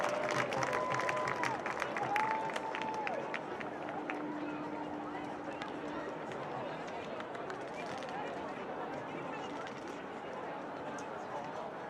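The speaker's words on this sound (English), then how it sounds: "Please join me in giving Owen a round of applause and appreciation for his extraordinary work and commitment to our community." A crowd in the stands at a high school senior night football game between Sparta and Lowell applauds and cheers steadily, a dense wash of clapping that carries on alone for the whole stretch, with a few faint whistles early on.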